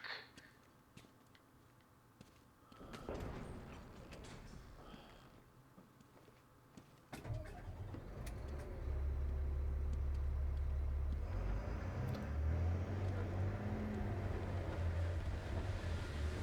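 A truck engine in the Batman: Arkham Knight video game rumbles low and steady, quiet at first, then swelling to a loud sustained drone after several seconds, with no voices over it.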